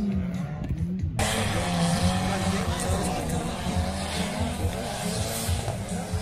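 Race cars running laps on a wet, muddy dirt track at a heat of a regional racing cup, engines droning and rising in pitch as they pass, with a crowd murmuring and a commentator talking over the noise.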